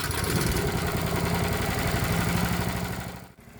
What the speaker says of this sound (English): Let's go ahead and start the engine and see what happens.